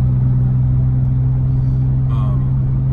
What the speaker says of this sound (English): It's a very nice sounding exhaust.